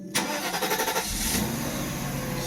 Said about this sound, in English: let's just shut the car down and restart it